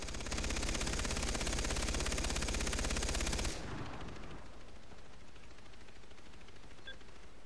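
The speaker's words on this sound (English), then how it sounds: "Somebody's on up here with a turret." A mounted turret machine gun in the shooter game Far Cry 3 rattles off a loud, dense, continuous burst for about three and a half seconds, then cuts out, leaving only a low ambient rumble.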